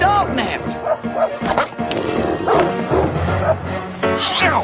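Sled dog pup yapping and whimpering in a cartoon mystery scene, with high yips and barks recurring over busy music and voices that talk throughout.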